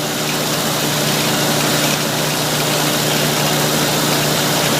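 A loud Onan generator engine runs steadily, a constant droning hum with a broad roar on top and no change in pace throughout.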